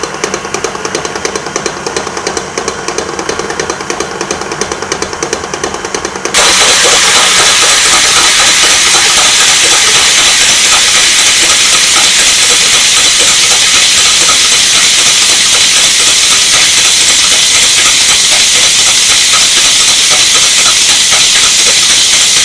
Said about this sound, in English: Now this I just need to beat for about 3 to 4 minutes on medium-high speed